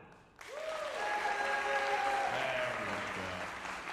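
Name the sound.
audience applause at tuba recital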